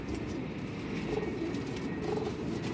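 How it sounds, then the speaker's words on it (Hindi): Pigeons, caught birds recently taken down from a net, arriving at a loft; soft cooing and fluttering sounds run steadily through a dense low background, with no talk. "तीसरा कबूतर आ गया"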